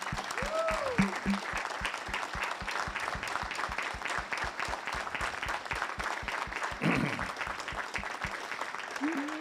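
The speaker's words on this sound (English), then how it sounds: "How about a round of applause for this lady" Sustained audience applause fills a school auction hall at an auctioneering college, with dense rhythmic clapping throughout and brief voices or whoops rising over it.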